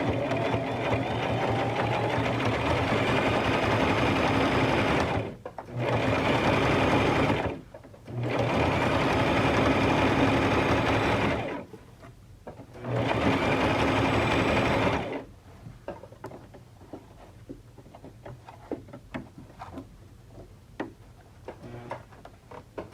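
Sewing machine stitching wig fabric, running in several close, rapid rattling bursts separated by brief pauses, then stopping into quiet ticks and handling noises.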